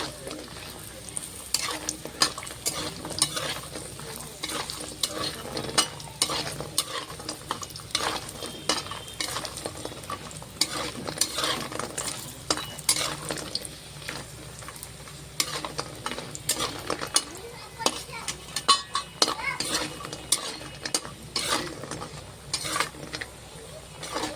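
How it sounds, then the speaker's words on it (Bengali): Lentil dumplings (bori) fry in hot oil, a soft steady sizzle broken by frequent scraping and stirring strokes and small clinks of utensils, close by and fairly quiet, with no talking. "লাল লাল করে বড়িটা ভেজে নেব।"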